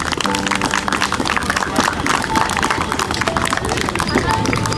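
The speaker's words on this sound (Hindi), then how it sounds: "तालियां बच्चों" A room full of children claps enthusiastically, loud uneven applause mixed with chatter, shuffling and a few raised voices over it.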